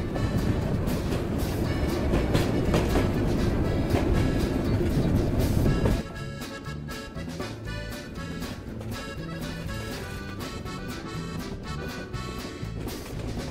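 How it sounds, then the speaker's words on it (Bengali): Kishoregonj Express intercity train rolling on rails, a loud, steady rumble of wheels and carriages that drops to a lighter, even clatter partway through. "বিশাল কার্ভ নিয়ে এগিয়ে যাচ্ছে আন্তনগর কিশোরগঞ্জ এক্সপ্রেস।"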